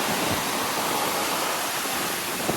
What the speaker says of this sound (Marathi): हा तांग समुद्र.